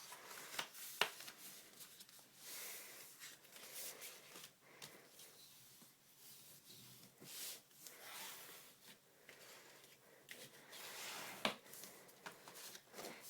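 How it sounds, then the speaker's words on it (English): A bone folder is pressed along folded paper, making soft, repeated scraping and rubbing strokes with a few sharper crackles, close and quiet, with no voices. "Crease it with your bone folder."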